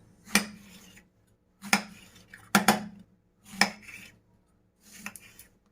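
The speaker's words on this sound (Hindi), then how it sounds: "आपको बैंगन की कटिंग इस तरीके से करनी है।" A knife cuts eggplant into pieces on a board, five distinct chopping strokes a second or so apart, close and clear with near silence between.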